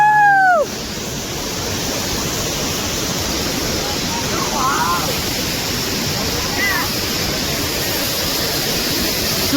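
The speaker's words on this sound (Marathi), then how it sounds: "तो तिकडून एक वॉटरफॉल येतोय, हा इकडून एकच आहे पण दोन साईडून पाणी येते" A monsoon waterfall in the Konkan countryside, fed from two sides, roars in a steady, dense wash that holds evenly throughout, with a faint voice briefly audible in the background.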